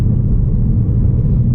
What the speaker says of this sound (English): if I want to accelerate, I can just step on the gas a little bit more